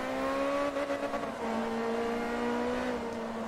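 Ferrari F430 engine in Forza Motorsport 3, a steady sustained roar with clear harmonic whine holding at near-constant revs, loud and close throughout with a slight pitch dip partway.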